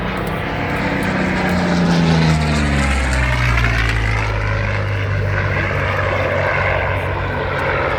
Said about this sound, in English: they picked one of these aircraft off the line and took the radial engine out and refitted with an Allison